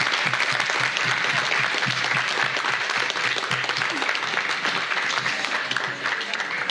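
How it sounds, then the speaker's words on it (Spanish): Sustained audience applause at a tribute event honoring Enrique Dussel's legacy at UACM, dense and steady throughout, with scattered voices under the clapping. "pedirles que le demos un aplauso con mucho cariño y mucho agradecimiento a la señora Johanna Peters de Dussel"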